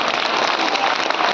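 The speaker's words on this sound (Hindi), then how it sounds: "एक बार तालियां दे दो।" A crowd at an outdoor Hindi poetry gathering at Shri Kalki Dham breaks into brief, loud, dense applause, a steady wash of many hands clapping at once.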